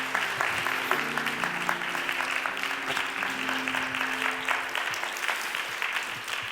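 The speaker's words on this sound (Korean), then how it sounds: "다시 한번 뜨거운 박수로." Audience applause at a church young adults' worship service, steady clapping filling the whole stretch at moderate level, with some music or voices faintly underneath.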